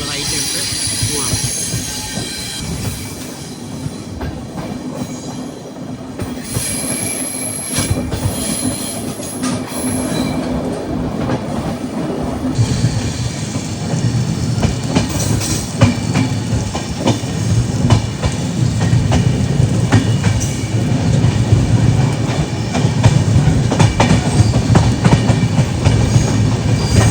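Passenger train on the Raptisagar Express route rolling along the track, a loud continuous rumble and rattle from inside the coach with rhythmic wheel clatter and occasional squeal, growing louder, with brief talk.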